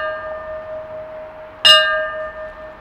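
A memorial bell at a commemoration in a cave explorers' memorial garden gives a single sharp strike whose ringing tone lingers over a sustained hum, clear and close.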